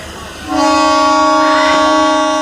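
A North Bengal DEMU passenger train, number 07526, pulls away from Odlabari station with a long, loud, steady horn blast that begins about half a second in and holds to the end.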